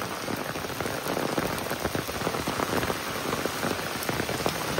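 Torrential rain falls on a village in a thick, unbroken wash of pattering drops, near and loud throughout, with no one speaking.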